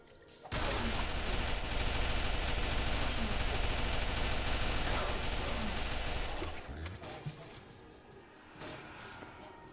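An AK rifle in a video game fires a long, dense automatic burst for about six seconds, loud and continuous, then trails off into scattered softer thuds.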